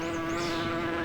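Steady insect-like buzzing of bees, a close, continuous drone holding one pitch throughout the brief moment with no other sounds over it.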